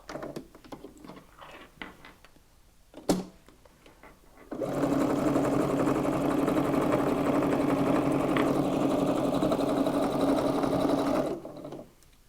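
A sewing machine stitches through fabric and wadding for a reversible shopper bag, running in one steady, rapid mechanical chatter for about seven seconds after a few soft handling taps, then stopping.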